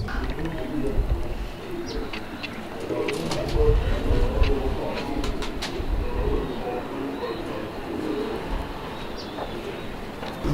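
Pigeons coo softly amid a busy outdoor background in Lahore, with scattered bird calls and a low rumble of distant traffic or a train.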